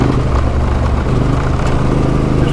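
A motorcycle chugging along in fifth gear over a rutted dirt road, its engine a steady, smooth low drone with a continuous rumble, loud and close throughout with no talk over it.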